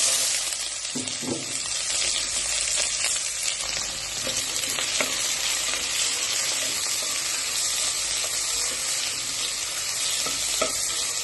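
Chopped onions with cardamom, cinnamon, cloves and bay leaf fry in hot oil in a pressure cooker for a Kerala-style beef curry. A dense, steady sizzle is broken by a few spoon scrapes and stirs, close and continuous.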